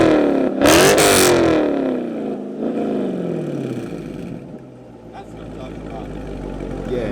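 A Dodge Challenger with a Corsa aftermarket exhaust revs up sharply, a throaty exhaust roar rising and falling, then idling with a deep rumble, close and loud.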